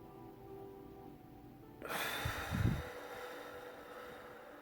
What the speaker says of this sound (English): holding it for an increment of 5 count, and then releasing the breath in an increment of 5